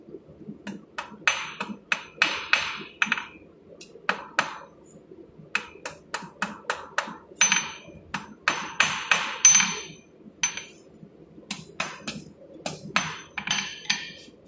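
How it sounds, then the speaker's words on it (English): A blacksmith's hammer taps metal on the anvil face while forging a hook, in light, quick, ringing strikes grouped in bursts with short pauses, close and clear, without speech. "my other option is to use the anvil face, and I just have to be very soft with my hammerheads"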